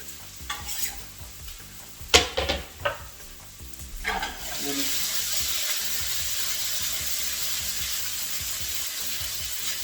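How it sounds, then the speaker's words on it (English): Breakfast potatoes tossed into a heated pan give a few stirring clatters and scrapes, then a loud, steady broadband sizzle of frying that holds for the rest of the span. "So I've got the pan heated up a little bit. I'm gonna throw these potatoes in."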